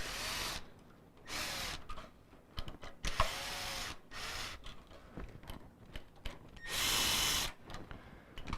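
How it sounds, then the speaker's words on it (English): Several bursts of a whirring power drill unwinding bass guitar strings, some short and one long, with clicks and handling noises between them. "I'm just going to use the drill to save a little time."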